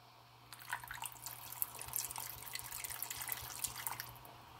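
Cooking wine poured into a pot of braised beef riblets with soy sauce, a soft trickling splash with small drips, quiet and close, lasting a few seconds.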